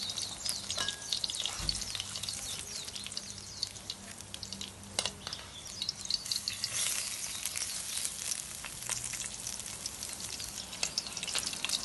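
A samosa paratha packed with vegetables and chicken fries in a pan, giving a steady dense sizzle with scattered crackles and pops throughout, close and continuous with no talking.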